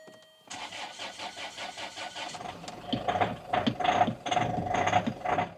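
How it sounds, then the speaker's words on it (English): A Land Rover Freelander 2 with the old 2.2 litre engine cranks briefly with a whirring starter, then fires and settles into a rough, rattly idle with a clattering, ticking mechanical tone, heard close up with no talking. "Right, so let me try and fire this up."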